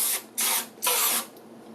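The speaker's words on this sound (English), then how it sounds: "Spray your muffin pan" Oil cooking spray, such as Pam, is sprayed onto a muffin pan in a kitchen, two sharp hissing bursts about half a second each with a short pause between them, close and loud, followed by a faint tail.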